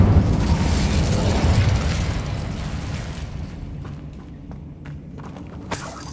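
An Incendio fire spell cast in the Hogwarts Legacy video game, a loud fiery burst and roar that fades over several seconds into crackles and a few scattered sharp ticks.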